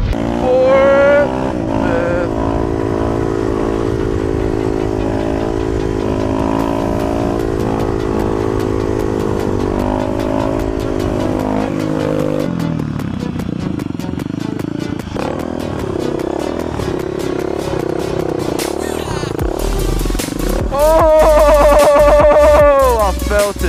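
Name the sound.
motorcycle accelerating through the gears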